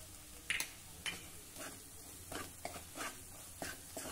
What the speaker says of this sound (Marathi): एक वेळा थोडं परतून घेऊ